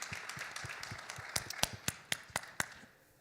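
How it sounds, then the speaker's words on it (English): A few scattered claps and hand taps, sparse and uneven, building into a short burst of clapping rather than full applause. "Big round of applause, please."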